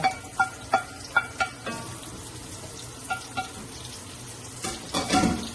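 Garlic and onion fry together in a pan, with soft sizzling beneath a few sharp clinks of a utensil against the pan and a louder stirring scrape near the end; no talking.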